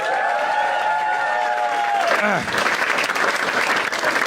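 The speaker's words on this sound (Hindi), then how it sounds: "एक बार गौरव भाई के लिए सब ताली बजा दो।" Studio audience at a Bigg Boss 19 reunion show breaks into steady applause after a sustained musical tone fades, the clapping loud and continuous.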